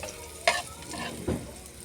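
Shrimp sauté in Star margarine with a close, crackling sizzle and two distinct spatula scrapes against the pan, no talking.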